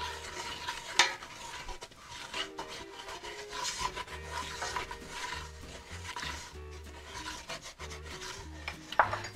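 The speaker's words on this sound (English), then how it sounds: "stirring the whole time." Ground paprika is stirred in a pan while it cooks for a chicken curry, making steady close scraping and rubbing sounds over a faint, continuous sizzle.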